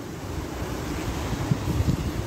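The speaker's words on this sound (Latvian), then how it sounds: "Vējš" Steady wind roars across a seaside fishing spot during a flounder outing, with surf washing underneath and microphone buffeting that grows slightly gustier toward the end; no one speaks.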